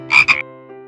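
A frog lets out two quick, close, loud croaks in rapid succession, followed by a faint tail and near silence.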